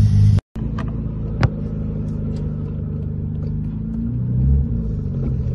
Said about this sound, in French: premier tour de roue sur la route en boîte manuelle